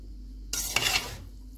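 A spoon scrapes and stirs through Kabuli pulao rice in a pot: a brief burst of metallic scraping and rustling after a quiet start, fading out after about a second.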